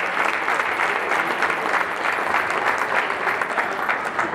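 Warm audience applause for the Panserraikos football team at a New Year pie-cutting event, dense steady clapping from many hands filling the room without pause, loud and close.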